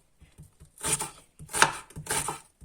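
Three bursts of knife chopping onions finely on a board, quick clustered cuts with short pauses between, close by and fairly clear, no voices.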